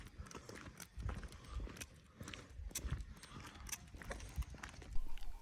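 Hooves of a herd of goats approaching on a French farm patter and clatter in an uneven, overlapping rhythm, faint and somewhat distant, with small rattling knocks among the steps and no talking.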